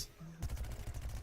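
Rapid gunfire in the shooter game Plants vs. Zombies Garden Warfare 2, a dense run of repeated shots starting abruptly and continuing steadily for about a second, loud and close.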